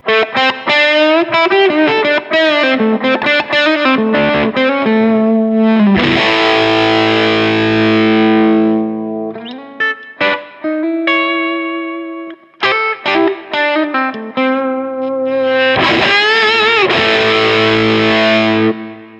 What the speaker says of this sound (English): So this is where you get some of those real pushed amp tones.